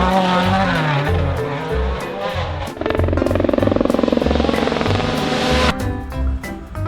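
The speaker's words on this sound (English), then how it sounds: "Rally car." Toy rally car racing sounds play loudly, with engines revving up and down and tires squealing and skidding, then a long steady high engine whine that cuts off sharply near the end.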